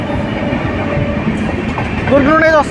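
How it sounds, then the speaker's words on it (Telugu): Puri–Durg Express running from Durg towards Puri on a bypass line: a continuous close rumble of carriages, with a brief rising tonal wail near the end. "దుర్గ్ నుండి అయితే వస్తుందండి, పూరి వెళ్తుంది ఇప్పుడు ప్రజెంట్ అయితే ట్రైన్"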